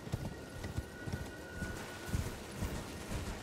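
A horse gallops in the video game Elden Ring, rapid rhythmic hoofbeats thudding steadily under a wash of background game ambience with no voices.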